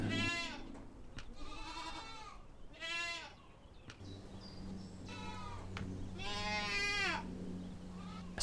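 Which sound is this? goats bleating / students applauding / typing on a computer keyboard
goats bleating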